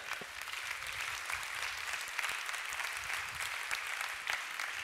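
A church congregation applauds together, a steady sustained clapping that fills the whole moment without any talk over it.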